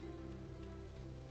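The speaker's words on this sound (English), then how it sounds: "You can hear the gentle pitter-patter of the rain against the roof." Gentle rain patters against a roof in a soft, even, continuous hiss, quiet and steady throughout, with no voices.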